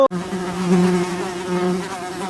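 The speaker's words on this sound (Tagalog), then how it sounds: "Bubuyog nga yan, ang kinagat ako." A bee buzzes close by with a steady droning hum that swells and fades slightly as it hovers.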